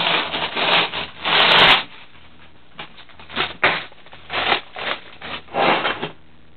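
Plastic bags crinkle and rustle close by in a kitchen beside a George Foreman grill, in several uneven bursts of rattling separated by short quiet gaps.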